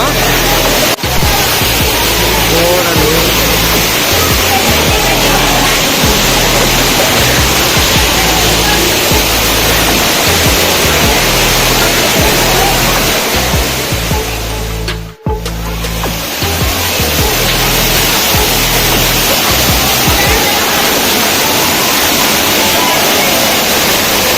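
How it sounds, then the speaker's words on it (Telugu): Steady, loud rush of an artificial waterfall at an aquarium fish-tunnel attraction in Bangalore fills the whole stretch, a dense broadband roar with a brief dip partway through and low rumbling underneath. "ఇక్కడ వాటర్ ఫాల్స్ ఎక్స్పీరియన్స్ అయితే పెట్టినారు guys, like real water falls లెక్క"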